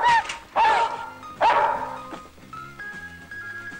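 A small dog, a puppy in a film scene, gives three sharp, loud barks close by, followed by a softer whimpering yip as a tonal musical note lingers underneath.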